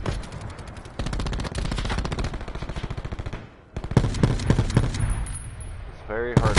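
Rampart light machine gun fired in a first-person shooter video game, a long rapid automatic burst with a brief break, then more bursts under a player's voice talking.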